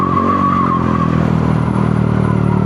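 A Yamaha Aerox V2 scooter fitted with a new JM Muffler exhaust pipe runs loud and close in a steady drone, with a slight pitch dip early on and no talk.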